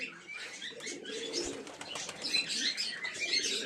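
Giribaz pigeons coo softly amid scattered chirps and a faint flutter of wings, a steady low murmur of birds that runs on without pause.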